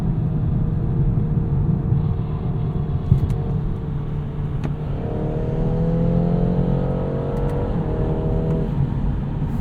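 A 2021 BMW 430i Convertible with an eight-speed gearbox accelerates hard up a highway entrance ramp, its engine tone steadily rising through the gear under constant road and wind rumble.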